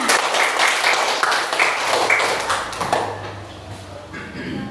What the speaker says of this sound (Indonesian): Benar, kasih tepuk tangan.